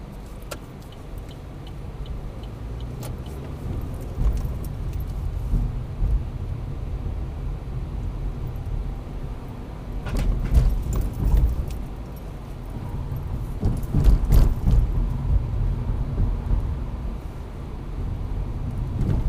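A car pulling away on a mock driving test along Ring Road West in Northampton, a steady engine hum and road rumble from inside the cabin, swelling as it accelerates, with faint ticking of an indicator.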